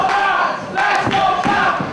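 A crowd at a live Irish Whip Wrestling match roars and cheers for a wrestler, swelling in loud bursts with shouts over a constant rumble of noise.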